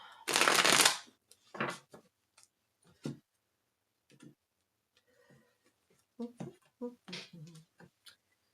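A deck of Runic Tarot cards is riffled and shuffled for a daily reading, one loud close burst followed by scattered soft card taps and flicks, with brief quiet spoken words between them.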